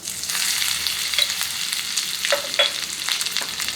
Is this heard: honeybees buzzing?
no